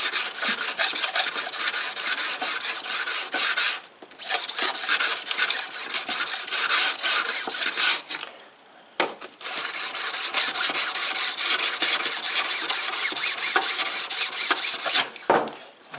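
A sharp planer blade for a Porter Cable planer is rubbed back and forth on a wooden sharpening jig block, giving a continuous close rasping scrape with a couple of brief pauses.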